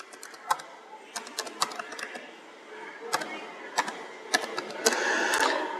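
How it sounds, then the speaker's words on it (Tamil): Someone types an email ID on a computer keyboard in irregular bursts of close, crisp key clicks with brief pauses, followed by a denser run of keystrokes at the end. "இங்கே இமெயிலுன்ற ஆப்ஷனில் உங்களோட மெயில் ஐடியை டைப் பண்ண போகிறீங்க"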